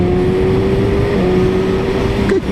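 A 2019 Yamaha R6 motorcycle with an Akrapovic exhaust shifts gear while riding, a steady engine tone holding loud and close, then dipping sharply near the end as the gear changes, with no talk.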